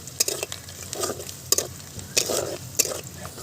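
A dried Kashmiri chilli and two bay leaves sizzle in hot oil, with a soft steady frying hiss broken by several sharp clicks and scrapes of stirring.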